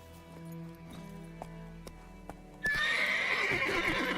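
In The Witcher 3 video game, the horse Roach is heard first in a few soft hoof clops, then a loud, close, drawn-out neigh that carries through to the end.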